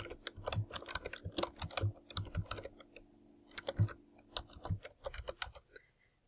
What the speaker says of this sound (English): When you start typing your search terms